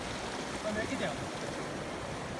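Hot spring water pours steadily out of the ground at Tatta Pani near Kotli, making a continuous broad rushing wash that stays even and close throughout, with a faint voice barely present beneath it.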